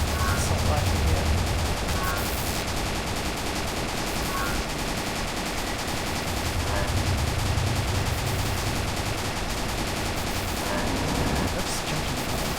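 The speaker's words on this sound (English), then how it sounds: "But then you might want to switch to the assault rifle here." Assault rifle fire in a video game crackles in rapid bursts, repeated over a busy game soundtrack.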